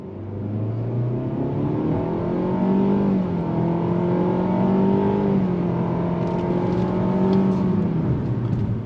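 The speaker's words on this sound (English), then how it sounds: "We're gonna go on throttle real quick here." A 2023 Nissan Altima SL sedan accelerates hard on throttle, its engine note rising and holding steady under simulated gear shifts, a loud continuous drone heard from inside the cabin with no talk.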